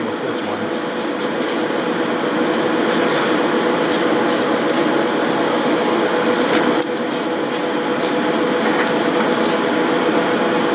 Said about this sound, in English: Now you can see I didn't spray a ton of paint on those.